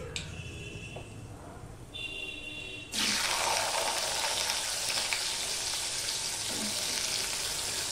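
Potatoes drop into hot oil with a spice tempering in a pan, bursting into a loud, steady sizzle and crackle that carries on evenly after a few quiet kitchen clatters.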